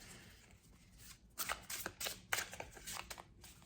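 New tarot cards being shuffled up close: a quiet pause, then a series of quick, crisp riffling bursts and flutters.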